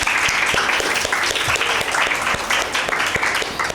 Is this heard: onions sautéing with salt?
no